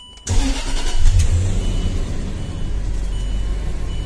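A 2008 Range Rover engine cranks and catches after a brief silence, then settles into a steady, loud, close idle rumble with no talking.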